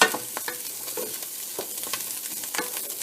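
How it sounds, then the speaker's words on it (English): Steamable long grain brown rice being stirred while it sizzles and pops hard in a pan, a constant bright crackle with scraping strokes of the spoon close up. "Hold on, let me stir this a bit. It's popping up like a maniac."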